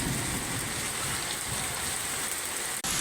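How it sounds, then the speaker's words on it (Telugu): Heavy rain pours down in Rajahmundry at midday, a dense, steady roar that fills the whole clip at close range, briefly cutting out near the end, with no voices. "బీభత్సమైన వాన"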